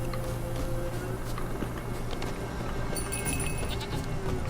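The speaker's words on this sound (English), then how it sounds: "Here, goat." Goat bleating in The Witcher 3 video game, heard over steady game ambience with a low hum, with repeated calls near the end.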